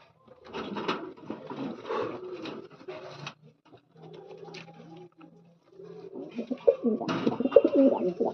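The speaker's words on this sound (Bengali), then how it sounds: "জাস্ট দুটো পায়রা শখ করাচ্ছি" Two pet pigeons coo in short throaty bursts close by, with brief pauses between calls and a louder, busier stretch toward the end.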